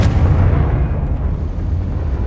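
Confringo blasting spell explosion in the Hogwarts Legacy video game, a loud, heavy booming roar with deep rumble that fills the whole short clip and fades slowly.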